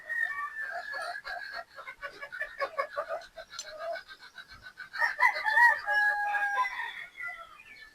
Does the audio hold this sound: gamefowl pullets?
yes